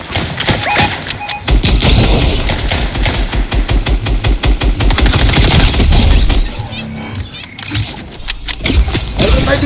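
Rapid automatic gunfire in a Fortnite match, loud dense bursts of shots rattling almost continuously, with brief pauses and a quieter stretch near the end.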